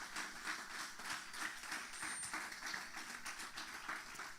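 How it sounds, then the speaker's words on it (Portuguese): A church congregation claps during a worship service, producing a dense, continuous patter of applause that sounds fairly soft and distant throughout. "Você pode aplaudir o nome do Senhor"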